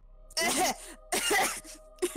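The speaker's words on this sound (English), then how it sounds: "Coughs awkwardly." Awkward coughing by a person at a tabletop role-playing game session, three short, close throaty bursts with brief pauses between.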